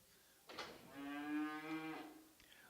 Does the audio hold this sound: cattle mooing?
yes